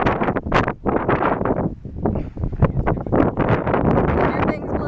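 Strong outdoor wind buffets the microphone in loud irregular gusts, roaring and dropping off in pulses close to the mic throughout.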